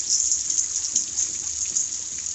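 Water gushes steadily out of a leaking water tank in a continuous, close, bright hissing spray that stays even from start to finish, with no voices.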